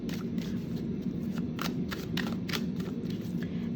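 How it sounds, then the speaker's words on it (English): A deck of tarot cards is shuffled by hand in a quick series of crisp, papery riffles and flutters. The shuffling goes on steadily and close up, with no voices over it. "We're going to give this a nice shuffle."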